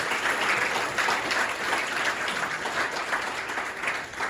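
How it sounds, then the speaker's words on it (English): Guests at the first annual Religious Affairs Specialist Gala give steady, full applause, a dense, moderately loud clapping that holds throughout with a slight dip toward the end. "let's give all religious affairs specialists a round of applause"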